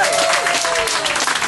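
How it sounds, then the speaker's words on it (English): Applause from a radio-event audience thanking zoo staff, a brief dense burst of many hands clapping together, fairly loud, with a voice briefly heard over it. "Big round of applause for them."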